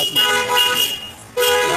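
Busy street traffic outside, with auto-rickshaws running and repeated car horn toots. The honks sound loud and close, in bursts separated by a brief dip.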